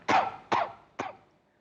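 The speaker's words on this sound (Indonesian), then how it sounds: "masih sering batuk." Three distinct coughs from a suspected COVID-19 patient, evenly spaced about half a second apart, close and moderately loud, each fading quickly in an otherwise quiet room.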